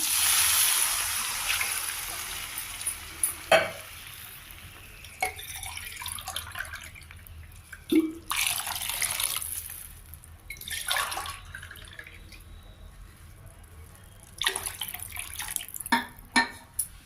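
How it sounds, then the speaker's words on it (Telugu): Water poured from a glass into a hot pan holding fine wheat rava, heard as bursts of splashing and dripping pours separated by quieter gaps, close and fairly soft. "వాటర్ పోస్తున్నాను నేను."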